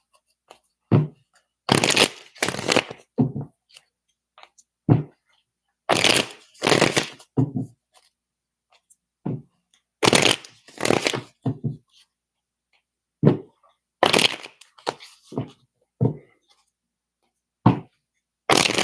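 Tarot cards being shuffled during a live reading, in repeated bursts of crisp riffling and slapping, each lasting a second or so, separated by short quiet pauses, close to the microphone.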